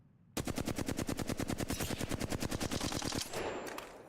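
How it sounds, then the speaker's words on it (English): Rapid automatic gunfire from a weapon in the video game Apex Legends, a long sustained burst of sharp evenly spaced shots at close range that cuts off abruptly, followed by a brief softer tail. "Let me figure out the recoil of this gun real quick."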